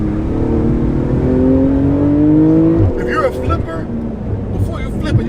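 A powerful Porsche race car with PDK transmission in sport mode and open exhaust revs up in a rising, loud engine wail, then lifts off into a series of crackling exhaust pops close by.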